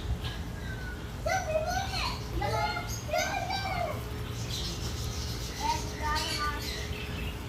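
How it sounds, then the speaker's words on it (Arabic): Sparrows and other birds chirp in bursts of bright tweets across a mosque courtyard, clusters of calls rising and falling over a low background hum, with a person speaking at times. "كل المسجد كلها طيور وعصافير داخل هذا الفناء."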